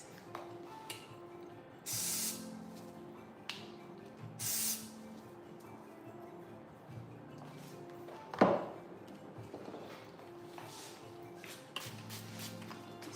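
Hair spray for thinning, aging hair hisses out in two short, loud bursts, then fainter sprays follow, with light handling clatter and a sharp knock in the middle.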